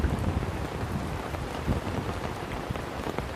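Heavy rain pours steadily over a flooded village in Dwarka district, a dense continuous hiss of drops on surfaces with some wind buffeting, close and loud throughout with no voices.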